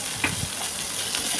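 Beans frying in a pan with pumpkin and carrot, a continuous hiss of oil with a few soft stirring clicks, steady and close.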